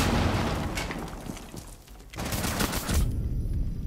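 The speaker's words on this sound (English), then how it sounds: "Throwing frag grenade" A frag grenade blast in Rainbow Six Siege is buried in dense, continuous gunfire, with loud booming bursts that dip briefly before surging again.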